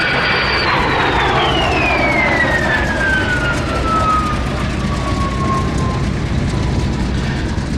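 An ex-Swiss Air Force de Havilland Vampire FB6 single-seat jet flying at a Duxford airshow, a loud continuous jet roar with a whining tone that falls steadily in pitch as it passes.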